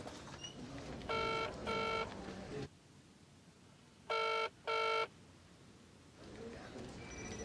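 Ringback tone on an outgoing phone call from a GP practice, two paired electronic rings, then a quiet gap, then two more identical paired rings, clear and steady over a faint hiss.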